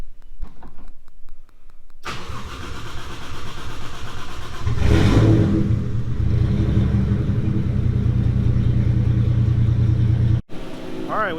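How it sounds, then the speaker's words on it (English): Toyota 1JZ engine cranks over and fires at about two seconds, revs up briefly, then settles into a steady, loud, close idle that runs on before cutting off near the end. "we're going to start the car up, let it run for a while, get the thermostat to open"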